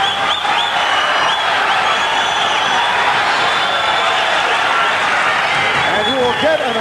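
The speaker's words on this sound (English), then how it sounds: "The hand clapping and the whistling." A boxing arena crowd in London keeps up steady, dense hand clapping and whistling after a fight between Frankie Randall and Edwin Rosario. The applause stays loud and continuous throughout, and the commentator's voice is partly heard over it.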